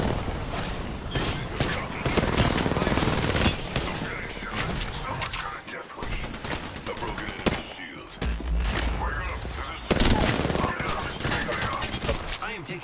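Dense gunfire in the video game Apex Legends, with rapid automatic bursts, heavy impacts and thuds, loud and close throughout, with game voice callouts over the shooting.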